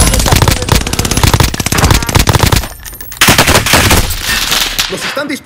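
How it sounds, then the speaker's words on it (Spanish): Very loud rapid machine-gun fire from the video game Call of Duty Modern Warfare goes on almost continuously. There is one brief lull near the middle, then more heavy shooting. "¡Nos están disparando!"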